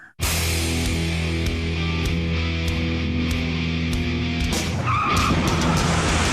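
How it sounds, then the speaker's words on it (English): A fleeing SUV sideswipes a car and an 18-wheeler, seen from a police dash cam: loud, sustained engine roar with skidding tires for several seconds, then a harsh scraping crash burst near the end. "It's a horrendous accident caught on 2 dash cams as he sideswipes both vehicles in a shower of sparks"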